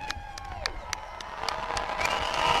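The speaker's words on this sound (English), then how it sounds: "I want the crowd to scream loud." A parade crowd at a night rally cheers and whoops, with scattered claps and shouts that build louder toward the end, mid-distance and continuous.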